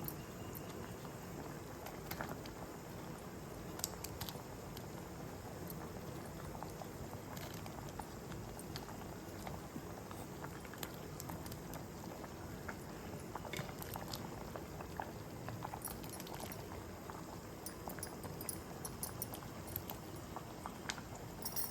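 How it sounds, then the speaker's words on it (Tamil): Kozhukattai payasam, with the cooked rice dumplings added, boils in a pot. Steady, soft bubbling and popping continue evenly throughout, fairly quiet, with no voices. "இது நல்லா ஒரு கொதிச்சு ஒன்றா சேர்ந்து வரட்டும்"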